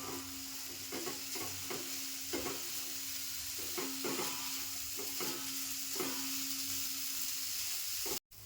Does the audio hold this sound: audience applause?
no